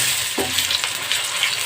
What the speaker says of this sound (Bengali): ফুলকপিগুলো এক এক করে বেসনে মাখিয়ে তেলে ভেজে নিব।